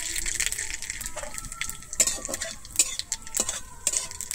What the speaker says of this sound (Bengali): আমার সমস্ত মশলাটা কিন্তু খুব ভালোভাবে এখানে ভাজা হয়ে গেছে